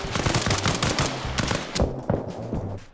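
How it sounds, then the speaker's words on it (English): Enemy gunfire in Arma Reforger, a military shooter, comes as dense rapid bursts of automatic shots with a few sharper louder cracks near the end, continuous and fairly close, without speech. "they instantly started shooting at me"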